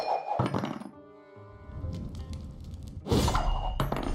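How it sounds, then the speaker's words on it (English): A ballista siege strike destroys a Draconoid card in the Gwent card game: a heavy thunk with clanging, shattering impact layered over game music, followed by a second bright burst of breaking effects near the end. "let's use the siege, the ballista, to destroy this Draconoid"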